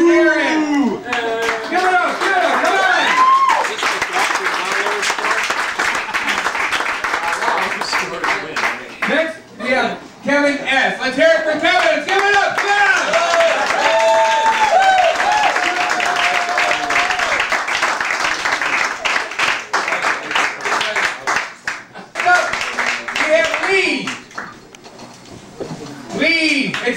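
Audience applause at a poetry slam in a literary cafe: dense, loud, sustained clapping that dips briefly and returns, mixed with cheering and voices from the crowd.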